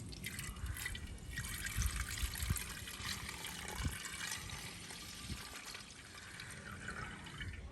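Milk, about one and a half cups, poured into a bowl for a sago fruit dessert, a steady close liquid trickle and splash running continuously with no talk.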